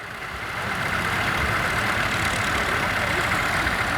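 A van with a 1.5 diesel engine runs at a steady idle, a low rumbling drone that swells in over the first half second and then holds constant and fairly close.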